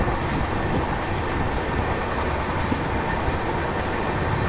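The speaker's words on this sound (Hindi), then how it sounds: "अपनी ट्रेन ने एकदम स्पीड अप कर लिया था" Mumbai Howrah Duronto Express with red LHB coaches running at speed, heard from on board as a loud, steady rolling rumble and rattle of wheels on track, with no talking.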